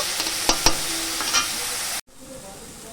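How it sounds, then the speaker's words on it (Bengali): A spice mixture fries in a pan for a traditional fish dish with elephant foot yam. A steady close sizzle carries light stirring clicks and scrapes, then cuts out and returns as a quieter hiss. "ভেজে যেটুকু ছিল ভালোভাবে এটা ভেজে নেব"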